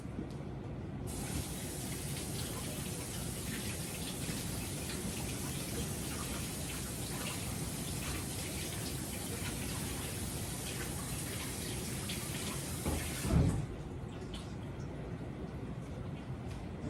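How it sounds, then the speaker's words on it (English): A raw chicken breast is rinsed under a running kitchen tap for lemon chicken. A steady, close hiss of spraying water runs without a break, then a brief knock sounds and the flow cuts off near the end. "I'm going to wash this real quick"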